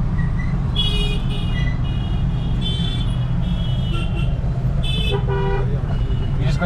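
Car horns honking repeatedly in congested road traffic in India on the way to Haryana, several beeps of varying length over a steady rumble of engines and street noise, with faint voices in the background.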